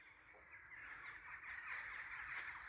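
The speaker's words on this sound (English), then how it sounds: "we still have plenty of bird life down here" Crows caw repeatedly outdoors in Welshpool, Wales, faint and distant, with a steady chorus of calls and no talking.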